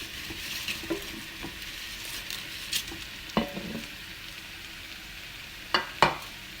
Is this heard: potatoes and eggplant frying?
yes